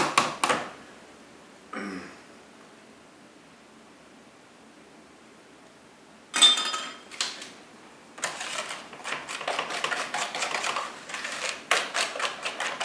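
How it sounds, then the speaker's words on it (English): A wire whisk beats batter in a bowl with rapid clattering taps. Short isolated bursts come first, separated by quiet gaps, then a sustained stretch of fast, close rhythmic clicking. "I'll use the whisk this time"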